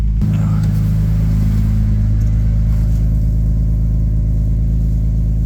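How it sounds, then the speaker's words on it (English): Toyota Supra exhaust at close range, a loud deep rumbling idle that rises into a rev and holds a heavy steady drone. "I'll show you the car exhaust."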